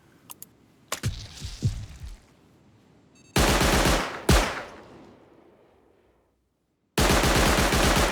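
Electric turret in the game Rust firing, with sharp bursts of rapid gunfire and single shots, some loud sustained volleys, a gap of silence, then another heavy burst.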